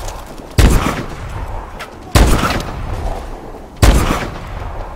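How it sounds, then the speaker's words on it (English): Three heavy energy beam sniper shots ring out in Call of Duty: Advanced Warfare, each a loud sudden blast followed by a decaying roar, spaced about a second and a half apart. "this is the energy beam sniper."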